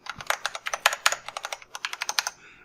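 Quick typing on a Corsair K95 RGB Platinum keyboard with Cherry MX Speed switches: about twenty crisp, fairly quiet keystrokes in a steady rhythm, heard alone and up close before trailing off.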